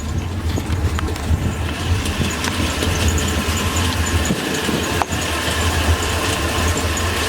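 Twin engines of a Carver Mariner 350 boat idle steadily in the engine compartment, a loud, continuous low rumble with a few faint clicks and knocks over the top.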